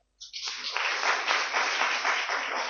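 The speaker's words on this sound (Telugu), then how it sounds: "చప్పట్లు కొట్టండి." A church congregation at a New Year worship service breaks into sustained applause, starting abruptly and holding steady and fairly loud throughout.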